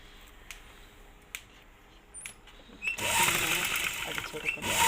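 Sewing machine stitching a short coat, starting up about three seconds in as a steady, close whirring run after quiet handling of the fabric.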